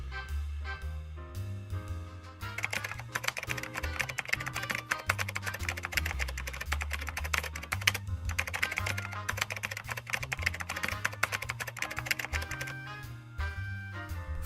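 Keys clatter in quick, steady bursts on a Commodore 64 computer keyboard, running almost continuously over loud, tuneful background music.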